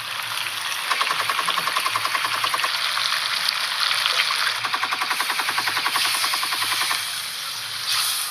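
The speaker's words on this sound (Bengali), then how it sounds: "একটু জল দেবো।" Water poured into a hot frying pan in a home kitchen, setting off a loud, steady sizzle with fast crackling pulses that swell and fade across the whole stretch, close up and with no talk.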